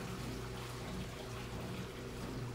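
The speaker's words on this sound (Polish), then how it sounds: "To brzmi jak wodospad. Albo jak... Moja pralka!" Water gushes steadily from a washing machine in a Fireman Sam cartoon, a continuous, even rushing wash at moderate level with no break.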